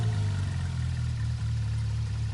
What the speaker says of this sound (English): Those engine noises when you pick the car sound really nice.